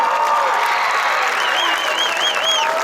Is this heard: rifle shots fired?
no